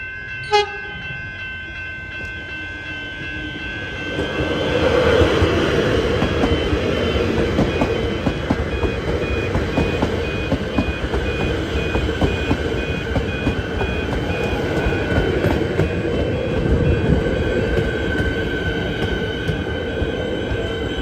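A Melbourne suburban train passes a level crossing, opening with crossing warning bells and tones, then a sustained rumble and rattle of carriages rolling by at close range for many seconds.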